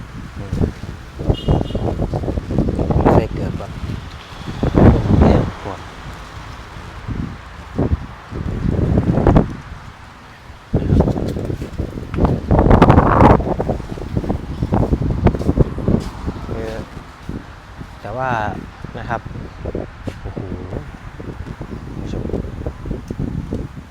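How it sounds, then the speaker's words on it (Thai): Strong gusty wind before a storm, buffeting the microphone in loud roaring bursts with rustling leaves, rising and falling throughout under someone speaking outdoors. "ลมค่อนข้างจะแรงนะครับ วันนี้"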